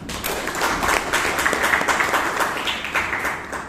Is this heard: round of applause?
yes